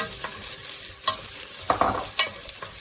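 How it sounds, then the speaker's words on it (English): Onions sizzle and crackle in hot oil in a pot for a chicken curry, with a few scraping stirs of a utensil breaking through the steady frying hiss. "I'm going to fry the onions until they're translucent."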